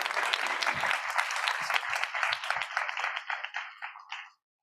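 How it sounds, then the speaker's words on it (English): An audience at a panel discussion on private-sector innovation gives a round of dense, crisp applause that thins out and stops after a few seconds. "please give a round of applause for our second panelist"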